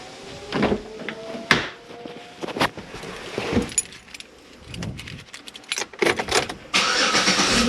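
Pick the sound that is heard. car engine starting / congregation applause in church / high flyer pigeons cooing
car engine starting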